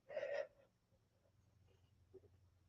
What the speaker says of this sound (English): Oh, I just had a yawn.